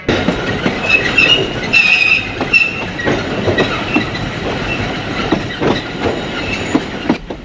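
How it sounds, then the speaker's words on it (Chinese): The small Alishan Forest Railway train runs along its mountain line with a loud, continuous rumble, rhythmic clickety-clack of wheels over rail joints, and brief high metallic squeals from the wheels early on. "欢迎搭乘阿里山森林小火车"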